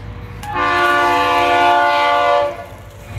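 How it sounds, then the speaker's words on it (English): A southbound light-engine locomotive move approaches on the line, its horn sounding one loud sustained blast over the steady rumble of the train, with no talking. "I'm about to show you another train."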